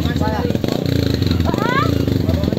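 A motorcycle engine runs close by at a village fiesta, a steady, pulsing mid-pitched putter with a couple of rising revs, loud throughout while voices call out over it.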